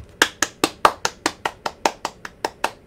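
Applause from a character in the video game Garten of Banban 4: about a dozen crisp, evenly spaced hand claps in a steady slow rhythm, close and clear with no talking.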